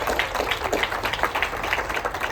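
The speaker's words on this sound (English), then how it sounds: "Also Dr. Miller, big round of applause." Audience applause at an event aboard a Crystal Cruise special D-Day sailing, steady dense clapping throughout at moderate loudness with no talk over it.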